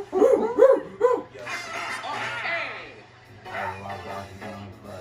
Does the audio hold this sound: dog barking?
yes